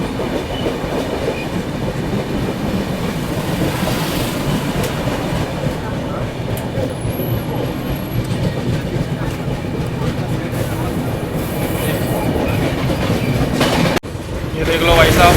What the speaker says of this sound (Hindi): ये देखो MM की ट्रेन आ गई है।